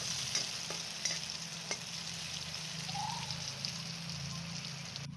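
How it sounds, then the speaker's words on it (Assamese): Sliced red onions fry in hot oil in a wok for a pork and elephant apple dish, a soft, steady sizzle close by with occasional light clicks of stirring and no talk. "এতিয়া ইয়াতে কাটি থোৱা ৰঙা পিঁয়াজ কেইপিচ দি দিছোঁ, দি পিনি ৰঙচুৱাকৈ পিঁয়াজখিনি ভাজি ল'ম।"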